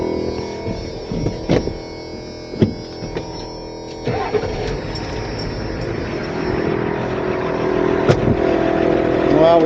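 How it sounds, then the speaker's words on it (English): A truck engine cranks over in a few sharp bursts, then catches and settles into a running idle that grows steadily louder and fuller, with some faint voices and clatter around it. "I better start the truck up because that would be just my luck"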